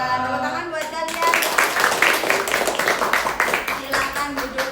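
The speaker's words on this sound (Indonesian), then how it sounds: "Tepuk tangan buat kalian." Students applaud together in a classroom, a dense burst of many hands clapping that starts abruptly and holds steady at close range for a few seconds.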